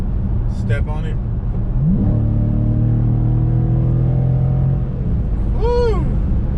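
A Dodge Charger Scat Pack Widebody muscle car engine revs up loudly with a deep, rising roar while accelerating, then holds a steady growl for a few seconds; a voice briefly whoops near the end.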